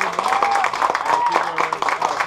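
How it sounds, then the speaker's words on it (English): Audience applause for jazz band players, a short burst of clapping mixed with voices and crowd chatter, fairly loud and uneven. "let's give them a nice round of applause"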